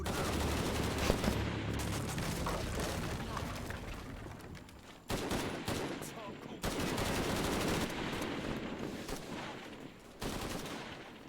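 Rapid bursts of automatic gunfire from enemies in the video game Shadow of the Tomb Raider, loud and dense, breaking off and resuming in several volleys over a game soundtrack.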